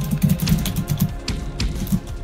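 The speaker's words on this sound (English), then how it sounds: "Fusion, can you stop typing? It's kind of loud" Typing on a computer keyboard during a Roblox Build a Boat for Treasure session gives a continuous run of fast, fairly loud clicks and clacks at close range, with no talking.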